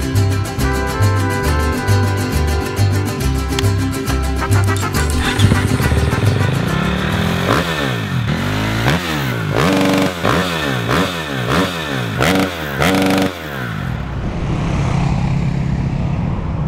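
A KTM replica four-stroke motorcycle ridden on the road toward Malang, its engine loud and steady with repeated revving sweeps and gear changes close to the mic, quieting near the end.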